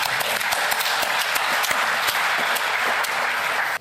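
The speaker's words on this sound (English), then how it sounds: "Round of applause." Applause from a forum audience greeting panel members at a homelessness discussion, dense steady clapping lasting several seconds before cutting off abruptly.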